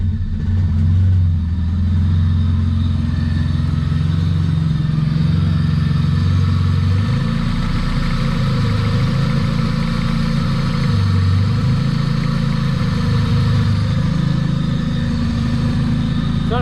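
A steady engine rumble idles close by in a Honda EF hatchback with a check engine light on, its low drone rising and falling slightly as the throttle is worked, with no talking over it.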